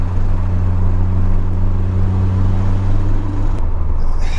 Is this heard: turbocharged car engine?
yes